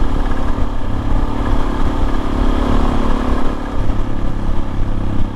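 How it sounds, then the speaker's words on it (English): A Suzuki DRZ400 rally motorcycle fitted with a rally tower and FMF Q4 exhaust cruises at speed on the highway, its engine droning loud and steady alongside rushing wind noise, with no talking. "that's the highway blast on the DRZ with the rally tower"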